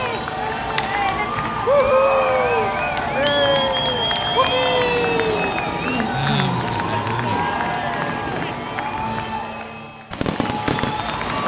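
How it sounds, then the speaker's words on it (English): A crowd cheers at a blues band's album release party, with a broad roar of voices, whistles and scattered firework pops that rise and stay lively before a brief drop near the end. "People cheering."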